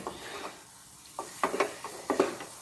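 A mango and coconut laddu mixture with a spoonful of ghee is stirred in a pan, with soft, quiet scraping strokes and a light sizzle coming in short bursts.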